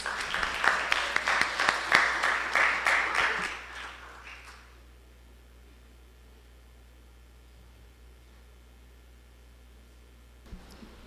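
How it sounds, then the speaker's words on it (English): An audience at a live competition claps for a performer in a short burst of applause that fades out after about four seconds, leaving a quiet hum of room noise with a brief sound near the end. "Let's all give her another round of applause."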